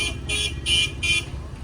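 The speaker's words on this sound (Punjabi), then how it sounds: "ਹਾਰਨ ਪਤਾ ਨਹੀਂ ਕਿਉਂ ਵਜਾਉਂਦੇ ਆ" A vehicle horn blares three times in quick succession, loud and close, amid crowded tractor and vehicle traffic at the Hola Mohalla festival in Anandpur Sahib, with a low traffic rumble beneath.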